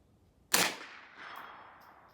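A .22 LR shot from an HK416 rifle rings a 4-inch steel target at 100 yards: one sharp, loud crack followed by a metallic ring that decays over about a second and a half, with no talk.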